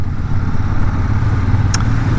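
A Royal Enfield Super Meteor 650 cruiser with its 650 twin, a lazy cruiser tune, a distinct airbox and exhaust, gives a steady, loud, even engine and exhaust rumble that holds unchanged throughout.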